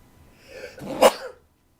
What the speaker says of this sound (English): Let me sneeze.